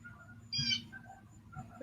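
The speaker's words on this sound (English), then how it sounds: "You heard that bird celebrating with you?" A small bird near a house gives a single short bright chirp, faint and brief, over a quiet low background hum.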